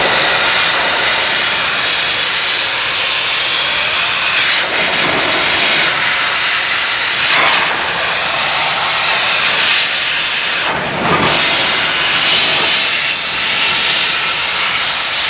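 Hot forced air from a motorcycle dryer blows in a loud, steady hiss close by, with a few brief surges and dips in the rushing airflow and no talking.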